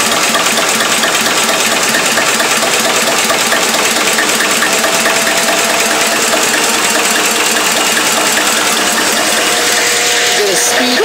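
A Listeroid single-cylinder diesel engine running steadily at speed as a home power plant, a loud, close, even rhythmic thumping with a clattering mechanical chatter that fills the whole stretch.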